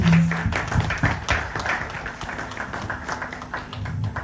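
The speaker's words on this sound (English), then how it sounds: "Can we give him a round of applause, please?" An audience at a Nigerian event claps together, a brief burst of scattered hand claps mixed with some voices and background hum, loudest at the start and gradually thinning.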